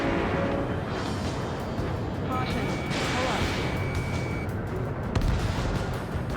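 Aircraft cannon fire in the jet combat game Ace Combat 7: Skies Unknown, a loud, dense, continuous rattling barrage layered with engine roar and cockpit radio voice, with a sharper burst near the end.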